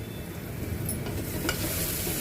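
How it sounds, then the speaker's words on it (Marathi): Spices with tomatoes fry in hot oil for ragda, a steady close sizzle and crackle with a spoon stirring and scraping through the pan, continuous and without speech. "मिक्स करून घेऊया एक मिनिटभर मसाले आपले"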